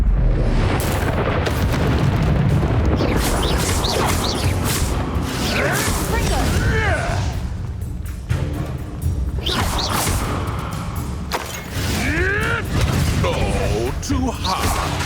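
Fiery spell explosions from Confringo and Incendio casts in Hogwarts Legacy, repeated booms and whooshing bursts in dense battle noise, with a player shouting spell names throughout.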